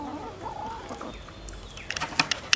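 Farm chickens cluck in a few short, sharp bursts near the end, over a soft outdoor background with no talking.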